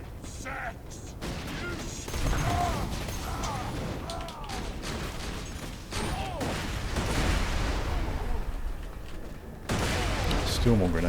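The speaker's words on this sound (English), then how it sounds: "you get another set of nerve grenades exploding" Nerve grenades burst in a Borderlands firefight, giving a run of close, sharp explosions and gunfire-like cracks amid a dense, noisy game mix. A voice talks over much of it.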